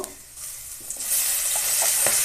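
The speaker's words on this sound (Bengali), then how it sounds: "তেলের মধ্যেই ভেজে নেব" Steady sizzling of Malabar spinach greens frying in hot oil, with occasional scraping stirs of a utensil; no voices.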